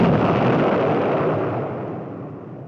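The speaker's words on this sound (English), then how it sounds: "Field trials like this looked impressive as the shoulder-fired missile locked onto its target" A Stinger shoulder-fired missile blast during a field trial, a loud sustained roaring rush that fades slowly over a few seconds, heard alone.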